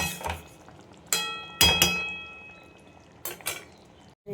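Metal pot of tengra fish curry finished with a little ghee, lifted off the stove: a few sharp clinks and clangs of metal utensils, close and fairly quiet, with short pauses between them and no talking.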